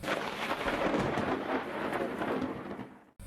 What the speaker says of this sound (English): There was a distant rumble of thunder.